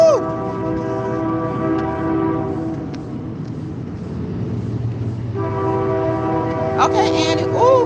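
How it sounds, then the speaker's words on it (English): A train rolls past with its horn blaring in long, loud, sustained blasts at the start and again near the end, under the steady rumble of the cars. "Here comes another train."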